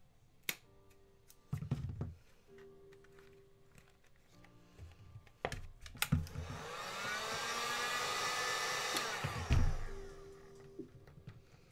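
A heat gun or hair dryer blows hot air over a split foam seam for about four seconds, a steady broadband whoosh amid scattered handling clicks and taps, fairly close and moderately loud.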